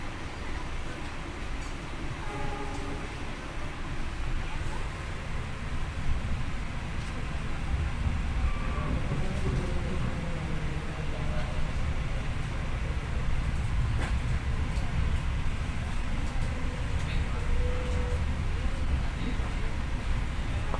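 The Tegal Bahari passenger train runs on the rails through Jatinegara station toward Pasar Senen in Jakarta, a continuous heavy rumble heard from on board for about twenty seconds, swelling slightly midway, with faint background sounds over it.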